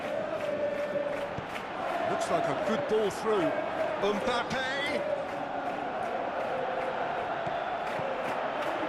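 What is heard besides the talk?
crowd cheering in a football video game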